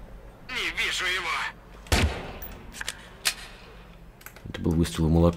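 Gunfire in the video game Watch Dogs 2: a few sharp, loud shots ring out in sparse bursts between stretches of talk and in-game ambience, with a voice speaking over the first part.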